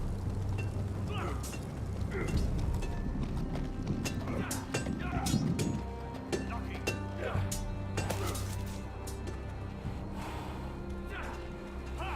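Horse hooves clip-clop in the Game of Thrones video game, a steady rhythmic trot under constant background music and ambience, with game dialogue over it.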